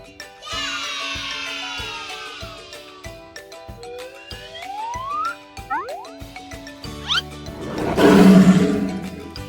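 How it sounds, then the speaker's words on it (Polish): A lion roars as a loud, rough burst near the end of a children's guess-the-animal segment. Playful tuned music, rising slide-whistle effects and boings come before it. "To jest lew!"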